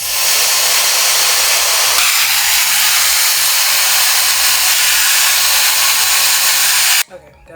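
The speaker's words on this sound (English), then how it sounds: "take my blow dryer, put on this diffuser attachment real quick, and just dry it for a minute" A blow dryer fitted with a diffuser attachment drying hair: a loud, steady whooshing roar runs almost without pause for about seven seconds, then cuts off abruptly near the end.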